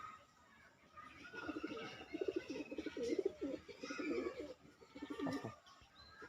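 Madras pigeons, a red-streaked breeding pair and their young, cooing in soft repeated low murmurs through the whole stretch, fairly close and faint, with a few higher chirps mixed in.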